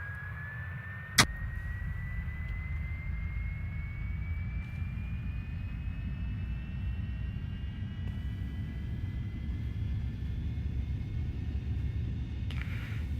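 A Beechcraft Premier 1A jet engine spools up in X-Plane 11, a rising whine climbing steadily over a constant low rumble after a sharp click, heard alone and without talk.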